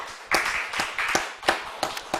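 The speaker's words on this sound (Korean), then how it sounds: "우리 하나님께 영광의 박수 한번 올려드리겠습니다." A church congregation at a Friday night prayer meeting claps, with a handful of sharp, separate claps in an uneven rhythm over a soft background.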